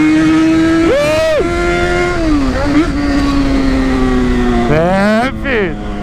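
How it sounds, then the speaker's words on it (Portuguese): Four-cylinder XJ engine revs in short bursts, pitch rising sharply and falling back twice over a steady idle, loud and close with a voice talking throughout. "Só o somzinho do XJ 4 cilindros."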